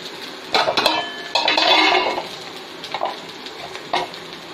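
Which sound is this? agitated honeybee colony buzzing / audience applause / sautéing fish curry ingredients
sautéing fish curry ingredients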